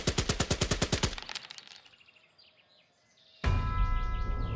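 Rapid automatic gunfire in the Valour & Victory: Pacific WWII strategy game: a fast burst of evenly spaced shots that stops after about a second, leaving a fading echo before a loud, dense wash of battle noise returns.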